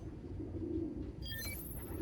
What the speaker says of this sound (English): Yeah, that sounds like pigeons.